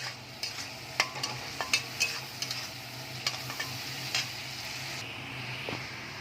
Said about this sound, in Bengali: চিংড়ি মাছ বেশি ভাজতে নেই, একদম হালকা হালকা ভেজে আমি এর মধ্যে লাউটা দিয়ে দেবো।